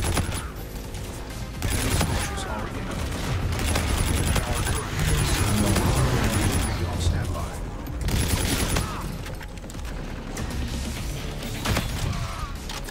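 Turret gunfire in the game Call of Duty: Infinite Warfare rattles in dense sustained bursts with crashes and booms, loud and close, under a dense game mix with voices.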